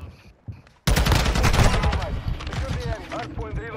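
Rapid automatic gunfire in Call of Duty: Modern Warfare 2 during a ranked Hardpoint match, a loud sustained burst that starts abruptly after brief quiet and continues under excited player talk.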